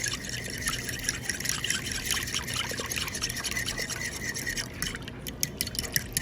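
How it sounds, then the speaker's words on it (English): Liquid splashes and drips wetly while vegan spicy sandwich ingredients are mixed, with rapid, close, irregular sloshing and rubbing throughout. "Oh, I'm splashing now."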